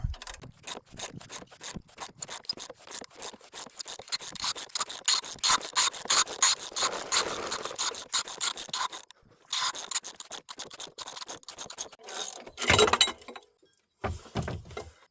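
A pulley puller is cranked to draw the power steering pump pulley off a 2007–2013 Chevy Silverado, giving close, steady scraping and ratcheting grinds in repeated strokes, with a short pause and a few final bursts near the end.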